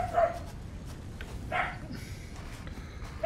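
A dog gives a couple of short, fairly faint barks or yips, spaced over a second apart, against a low steady background hum.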